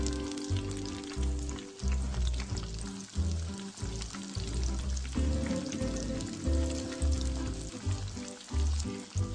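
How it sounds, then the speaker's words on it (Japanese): Pork cutlet fries in hot oil, a busy close sizzle and crackle with uneven bursts of bubbling that swell and ease throughout. "さあとんかつを揚げていきます。"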